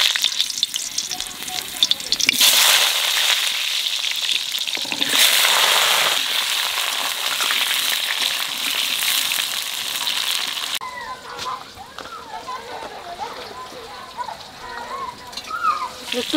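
Potatoes fry in a pan while mutton is cooked for a pressure cooker, with a steady broadband sizzle that shifts in texture as the lid goes on and then comes off.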